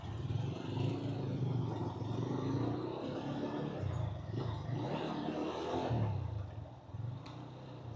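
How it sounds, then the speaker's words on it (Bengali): A motorcycle engine-brakes down a steep, kilometre-long hill road on a mountain route toward Keokradong, its low engine rumble droning steadily with slight swells in pitch, mixed with wind noise. "এই জায়গাটা একটু ইঞ্জিন ব্রেক করে করে আস্তে ধীরে নামতে হবে"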